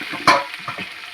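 Chopped tomato hitting spice paste frying in a kadai gives one sharp, loud sizzling burst, then settles into a quieter, uneven crackle with a few soft stirring sounds.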